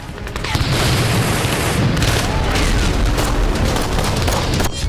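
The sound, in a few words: gunfire at Al Shifa hospital in Gaza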